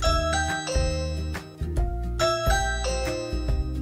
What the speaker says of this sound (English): Ring alerts sound like this